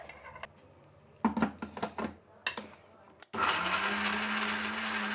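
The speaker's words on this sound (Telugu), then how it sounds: "ఈ మాత్రం మిక్సీ వేసుకుంటే సరిపోతుంది" A mixer grinder grinds soaked masala into a smooth paste, first with a few short clattering bursts and knocks, then a loud, steady high whine that runs close and continuous to the end.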